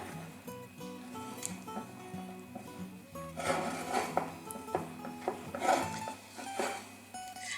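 Scone ingredients, brown flour and sugar with melted butter, stirred together in a bowl, a soft scraping and rubbing sound with light utensil taps, close by and fairly quiet.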